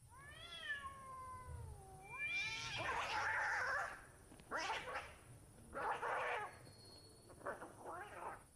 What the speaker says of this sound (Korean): 밤에 고양이들 싸우는 그 엄청 날카로운 소리